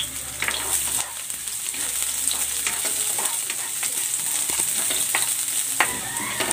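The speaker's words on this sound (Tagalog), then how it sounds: "Igigisa ko na tong luya" Ginger and garlic sautéing in hot cooking oil, a continuous close sizzle and crackle with scattered pops and occasional stirring scrapes throughout.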